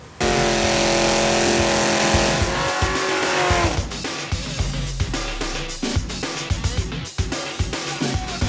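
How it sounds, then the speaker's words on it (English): A drag racing car roars at full throttle with a loud, steady engine howl, then the sound breaks into a rough, crackling rumble with sharp pops and bursts. "Welcome to the world of drag racing."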